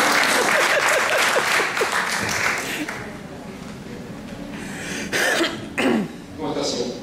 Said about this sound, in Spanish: Un aplauso para la compañera de acá.